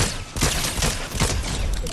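Rapid bursts of video game gunfire crackle loudly in quick volleys over about two seconds, with a voice briefly audible among the shots.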